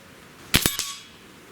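A Kral Arms N-11 magnum air rifle fires a single sharp crack, followed at once by a metallic clang from a white ram target being hit, with a short ring afterward.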